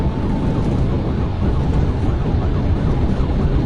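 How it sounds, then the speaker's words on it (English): A speeding police squad car, its loud engine roar filling the sound and nearly burying the wail of its siren, steady and close throughout. "the squad car is going so fast that the sound of the engine almost completely drowns out the siren"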